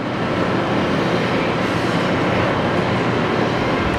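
A Kingston HD 26x120 lathe runs at 500 RPM, filling the space with a dense, steady mechanical roar that holds even and unbroken, with no voices over it.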